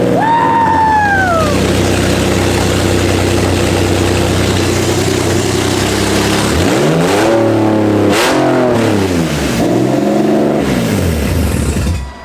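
A Nissan 370Z engine idles roughly, then revs in several sharp climbing and falling bursts, loud and close, with brief whoops and a voice near the start.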